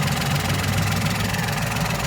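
A 1.2-litre three-cylinder car engine idles steadily up close, a continuous low rumbling throb with a slightly uneven pulse and no talk over it.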